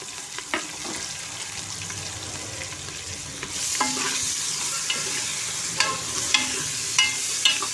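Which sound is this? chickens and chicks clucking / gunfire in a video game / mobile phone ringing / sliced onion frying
sliced onion frying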